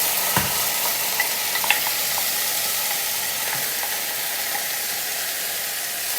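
Onions and garlic sizzle in a pan, a loud, even frying hiss with a few light clinks and scrapes from stirring near the start, close up and without speech.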